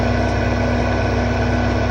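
Car engine in a modded video game drones at steady revs throughout, a loud continuous low hum with even tonal bands and no speech.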